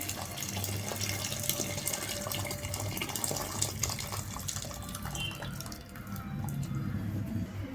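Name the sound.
pouring hot water into rice in pot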